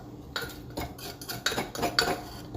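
A utensil stirs a seasoned steak marinade of garlic and honey barbecue sauce in a bowl, giving a series of close, irregular clinks and scrapes, with no talk.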